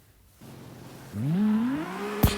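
In the CarX Street racing game, a tuned 32R drift car's engine revs up with a rising whine, steady and close, ending in a sharp burst.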